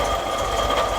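Engine of an MGB GT running fast after its twin carburettors were adjusted, a steady, busy mechanical drone held high for a short moment, close and loud with no voices.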